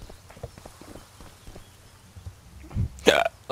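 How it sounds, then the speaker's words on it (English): A person's hiccup, a single sharp loud catch of breath that stands out abruptly near the end after quiet background sounds. "Oh no, got the hiccups."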